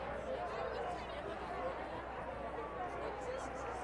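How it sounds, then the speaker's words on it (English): A large crowd of South fans at a 2014 high school football game lets out a low, diffuse groan, a steady murmur of many voices spread through the stands with no sharp peaks. "And I heard the South crowd just kind of moan on that."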